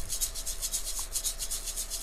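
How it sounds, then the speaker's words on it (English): Maracas in the Dora the Explorer Click & Create PC game, a rapid, even rhythmic shaking rattle repeating steadily and fairly close, with no voice over it. "Click on the instrument with the same sound. Yes, it's the maracas."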